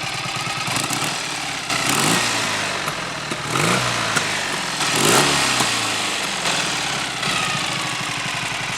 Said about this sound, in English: You see how the tick over is a little bit up and down